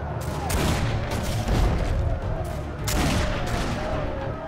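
Repeated heavy booms and blasts from ship cannon fire in the video game Risen 3: Titan Lords, loud and dense, with overlapping explosions throughout and a brief voice underneath.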